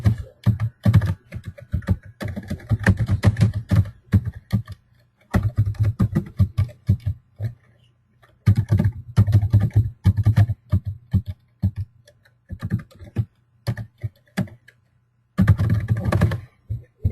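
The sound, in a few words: typing guest details on a computer keyboard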